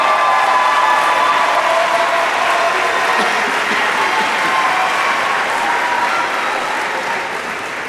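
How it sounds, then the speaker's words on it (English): Sustained applause from a large crowd in the stands at a high school graduation ceremony, dense and loud throughout, tapering slightly toward the end. "give a round of applause to the people who love you the most sitting in the stands"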